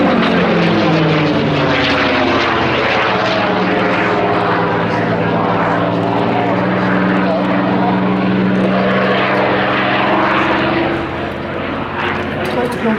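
Loud WWII propeller fighters such as a P-51 Mustang, Thunderbolt, Spitfire and Bf 109 Buchon droning continuously with shifting engine pitch as they dive and roll through aerobatics, with a voice talking over the engine noise.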